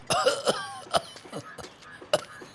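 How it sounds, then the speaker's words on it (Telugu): A beedi smoker coughing, several sharp rough coughs and throat-clearing bursts in an irregular rhythm, close and fairly loud, with quiet gaps between. "అయ్యో దగ్గుతున్నావు"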